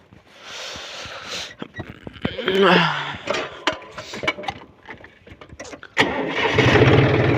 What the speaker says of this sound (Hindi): अब ट्रैक्टर को लेके चलते हैं ऊपर की तरफ